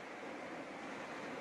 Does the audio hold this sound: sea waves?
yes